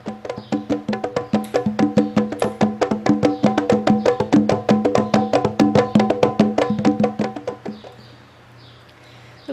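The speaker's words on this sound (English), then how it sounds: "Nowadays, candombe is mostly known as an Afro-Uruguayan musical expression" An Argentine candombe percussion ensemble plays fast, tightly interlocking drum hits in a steady driving rhythm, loud and close, before the beat stops and a faint ring fades out.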